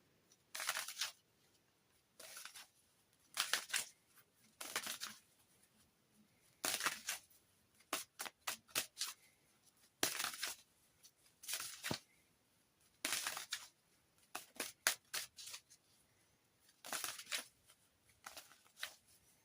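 Linestrider Tarot cards are shuffled by hand in repeated crisp riffling bursts, each lasting about a second and separated by short pauses, close and clear with no voices.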